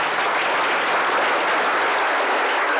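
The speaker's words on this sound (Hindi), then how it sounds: "तालियां हो सकती है।" Dense, steady audience applause fills the whole stretch at a fairly loud, even level, with no voices standing out.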